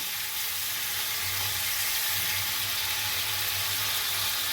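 Tomato frying and being stirred in a pan for chana dal, a continuous close sizzle with a soft, steady hiss and no voices.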